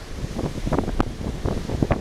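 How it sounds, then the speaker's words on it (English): Cold, blustery wind buffets the microphone on a Santa Cruz beach, a steady broadband roar with irregular gusty bursts, with surf faintly mixed in and no voices. "It's too cold and windy for naked girls out here today, Sancho."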